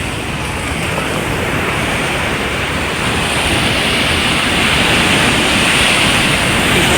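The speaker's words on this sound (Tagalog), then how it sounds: "po maliligo po sana ako sa dagat. Ay para pong may agos." Sea waves at a beach with a strong current, a loud continuous wash of surf that builds slightly over time, mixed with wind buffeting the microphone and no talk.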